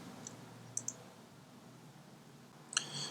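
Computer mouse clicks during a Hackintosh OS X Mavericks USB installer setup: a few faint, crisp clicks, a close pair early on and another near the end, in an otherwise quiet room.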